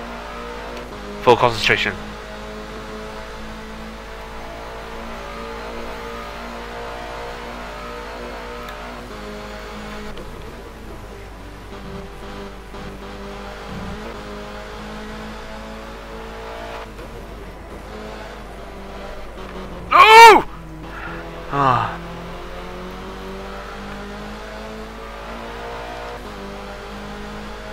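Race car engine drones steadily through a lap in a racing video game, with brief louder bursts near the start and around the twentieth second, as someone talks over it.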